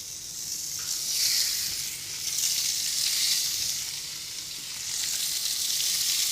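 Pork chops sizzling in oil on a griddle pan, a loud, close, continuous crackling hiss that swells and eases slightly in waves, with no talking.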